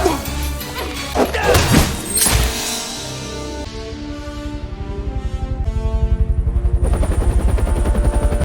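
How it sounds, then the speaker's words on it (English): A helicopter takes off during an action movie chase: crashing impacts and shouts give way to a rising rotor whine and a steady, quickening blade thump that grows louder toward the end. "During their conversation, Lola intervenes with her guns to cover Johnny's escape aboard his helicopter."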